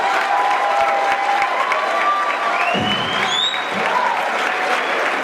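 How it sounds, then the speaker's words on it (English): A room full of guests at a retirement party breaks into steady, close applause with a few cheers and whoops mixed in, continuing throughout. "let's have a big round of applause for Steve."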